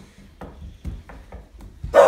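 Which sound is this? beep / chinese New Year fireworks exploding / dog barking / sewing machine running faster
dog barking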